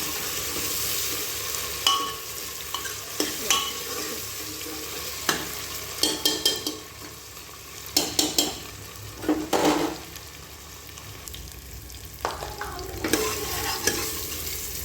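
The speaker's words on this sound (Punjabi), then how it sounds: "ਆਪਾਂ ਟਮਾਟਰ ਤੇ ਹਰੀਆਂ ਮਿਰਚ ਹੁਣ ਆਪਾਂ ਫੇਰ ਚੰਗੀ ਤਰ੍ਹਾਂ ਭੁੰਨ ਲਾਂਗੇ ਆਪਾਂ ਇਹਨਾਂ ਨੂੰ" Onions, tomatoes and green chillies fry in a pan for a pumpkin curry, a soft sizzle underneath intermittent sharp scrapes and clinks of a spatula stirring, close up and without speech.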